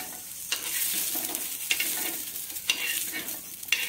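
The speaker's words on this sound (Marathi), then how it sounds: "मिरच्या सुद्धा ह्या कमी फ्लेमवरच भाजून घ्यायच्या आहेत।" Gentle sizzling as green chilies roast in a hot pan over a low flame, with periodic scraping and stirring clicks, steady and close, with no voices.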